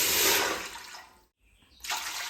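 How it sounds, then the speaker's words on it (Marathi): Water is poured into a cooking pot to be heated for making semolina papad. A loud, splashing rush starts the clip, fades and cuts out briefly, then a second pour gushes in. "पातेल्यामध्ये पाणी ठेवायचंय गरम करायचं।"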